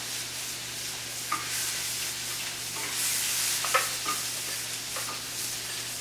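Shallots and garlic frying in a skillet give a continuous soft sizzle, broken by a few spoon scrapes and clinks as they are stirred together, close and moderately loud with no talk.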